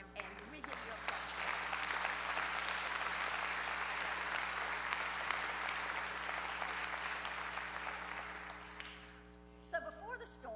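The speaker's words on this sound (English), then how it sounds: "we give you applause." Sustained audience applause at an annual co-op member meeting and celebration, a dense even clatter of many hands that holds steady for most of the stretch before tapering off near the end, with a voice briefly audible as it fades.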